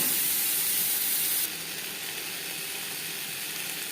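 Pointed gourd (potol) frying in a pan with salt and turmeric, a steady even hiss that drops slightly in loudness partway through, close and uninterrupted, with no talk.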